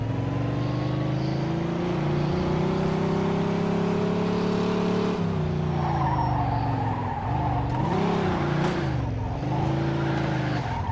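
Car engine revving and tyres skidding in the video game Mafia 2, a continuous loud engine drone with pitch swings and squealing slides as the vehicle handles poorly.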